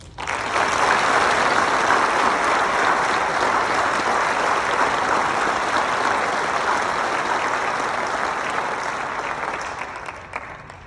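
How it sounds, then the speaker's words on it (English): Sustained audience applause for Iwo Jima veterans at a Marine Corps recruit graduation in San Diego, a dense, even roar of clapping from a large crowd that tapers off near the end. "So another round of applause."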